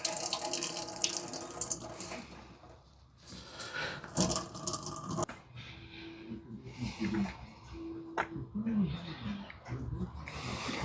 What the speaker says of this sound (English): see all the water coming out.